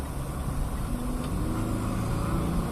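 A Mitsubishi Pajero Sport SUV with an automatic gearbox cruises along a highway, its engine giving a steady, moderately loud hum under broadband road and wind roar, with no voices.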